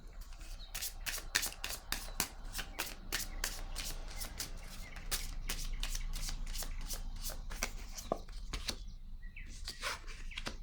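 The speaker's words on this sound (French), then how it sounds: "Je vais déposer une autre carte." Playing cards being shuffled and laid down one by one, with a steady run of crisp riffling snaps and flicks, followed by a few separate card placements at the end, all close and without any talk.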